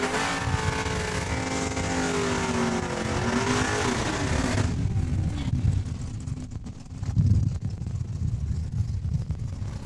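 Drag racing cars roar down the strip at Saskatchewan International Raceway in Saskatoon, a loud sustained engine drone that shifts in pitch, then gives way to a rougher, more distant rumble of motors.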